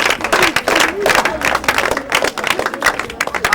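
An audience claps steadily in a continuous patter of many hands, with a few voices mixed in.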